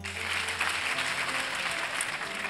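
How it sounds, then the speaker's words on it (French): A university audience applauds at a ceremony installing a CROUS director in Bambey, Senegal: dense, sustained clapping from a crowd, loud and even throughout. "Des applaudissements."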